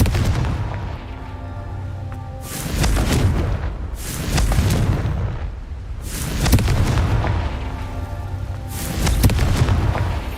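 Confringo fire spell explosions in Hogwarts Legacy: a series of deep, loud booming blasts roll out one after another every few seconds over a rumbling low background, with no talking.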